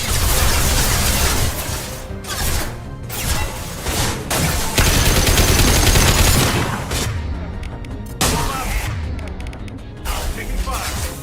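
Heavy video-game gunfire, dense bursts of automatic shots and impacts crowding the scene loudly throughout, with a voice shouting over the barrage.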